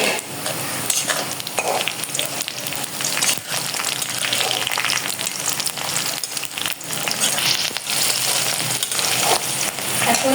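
Green chilies added to onions frying in a pan for a Bangladeshi fish curry with ridge gourd and potatoes, a loud steady hiss and crackle of hot oil with stirring scrapes running throughout, close and alone.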